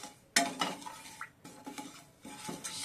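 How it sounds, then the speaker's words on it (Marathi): Sugar and water being mixed in a pan for syrup, a spoon scraping and clinking against the metal in a few uneven strokes, close and fairly clear with short pauses between them. "आता आपल्याला हे सगळं मिक्स करून घ्यायचंय"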